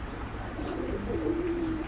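Saharanpuri pigeons coo, a low throaty call that swells in the second half, close by and moderately quiet, with a faint chirp or two in the background and no talking.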